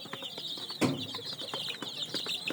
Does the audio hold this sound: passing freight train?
no